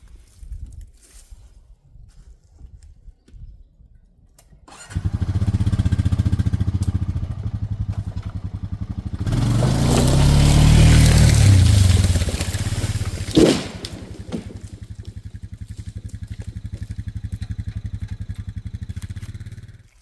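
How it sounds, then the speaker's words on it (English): An ATV engine strains to pull a hung-up tree down with a tow rope, starting abruptly, holding a steady loud drone, then surging heavier mid-way before a sharp crack and a settling idle. "I'm just gonna get the tow rope and hit her with the ATV and pull her down."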